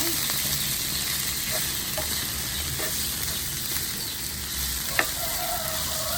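Chicken fry cooked in a little oil with onions sizzles in a pan as it is stirred, a steady close hiss with occasional scrapes and one sharp clink near the end.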